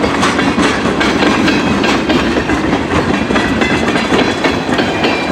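A westbound CN freight train passing close in Emmett, Michigan, with loud continuous rumbling and rhythmic clickety-clack of railcar wheels over the rails throughout.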